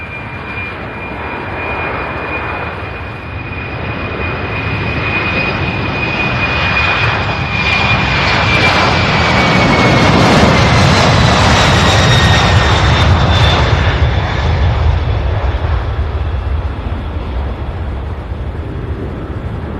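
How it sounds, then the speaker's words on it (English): A jet airliner takes off at SDF airport in Louisville, Kentucky, a loud, continuous engine roar with a high whine that swells to a peak midway and slowly fades, heard alone with no talk. "We've got one taking off now."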